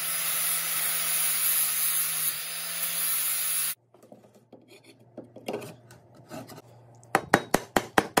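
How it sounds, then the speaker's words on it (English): Flap disc grinder working down the tip of an axe handle, a loud continuous high whirring grind that cuts off abruptly, followed by quiet handling knocks and a quick series of sharp taps. "I'm gonna go ahead and take that down with the flapper disc a little bit to make it fit."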